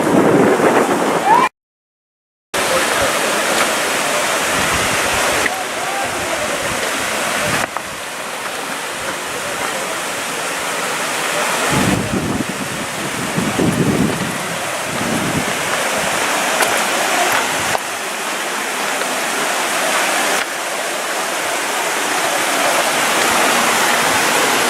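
Stream water in Israel rushes and churns continuously with a loud, broad hiss, heard close for almost 25 seconds, broken only by one short dropout near the start. No one speaks.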